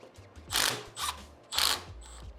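Three ratcheting bursts come from a wrench loosening bolts on an Arctic Leopard XE Pro electric dirt bike, close and clear over a low background hum.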